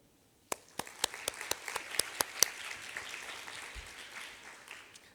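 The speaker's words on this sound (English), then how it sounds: "I would like to invite you to join hands with me and clap for" Applause at a graduation ceremony, soft and distant, starting with a few evenly spaced claps and thickening into light scattered clapping from a small audience.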